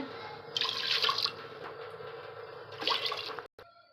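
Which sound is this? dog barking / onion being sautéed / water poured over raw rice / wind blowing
water poured over raw rice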